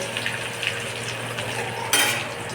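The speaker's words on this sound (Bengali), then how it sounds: "আমি একটু খুন্তি দিয়ে আলতো করে নেড়ে দেবো" Chopped ginger and garlic stirred gently with a spatula in a frying pan, giving a steady low sizzle with soft scraping and a brighter clink or scrape near the end.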